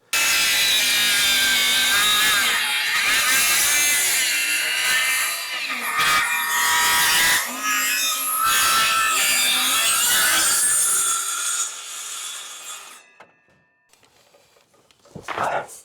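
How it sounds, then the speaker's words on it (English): Wooden rafters on an old barn roof are trimmed with a saw. A loud, continuous cutting roar runs for about twelve seconds, then stops, leaving quieter knocks and handling sounds. "Just trimming the rafters"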